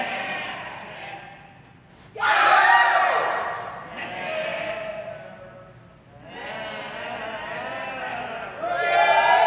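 An audience at an open stage performance shouts a group cheer several times in separate swells, each a loud collective yell that fades before the next, with a voice leading between them.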